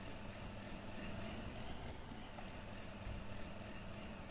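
A tractor engine drones steadily in a farming simulation game, a continuous low rumble with a faint mechanical whine holding at an even level throughout, with no voices.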